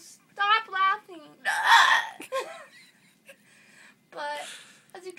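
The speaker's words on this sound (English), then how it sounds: "I have really bad hiccups." Repeated hiccups come in sharp, brief voiced jerks between bouts of breathy sounds and faint laughter, close and moderately loud, with speech mixed in.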